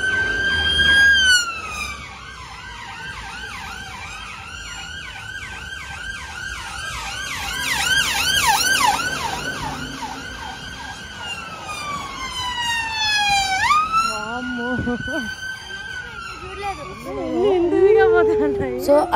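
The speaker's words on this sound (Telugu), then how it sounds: "సో అసలు ఫుల్ పోలీస్ సౌండ్, అంబులెన్స్ సౌండ్లు ఇవే ఉన్నాయన్నమాట." Police and ambulance sirens wail continuously on a London street, several overlapping rising and falling tones sweeping loudly throughout, with traffic noise underneath and voices talking now and then.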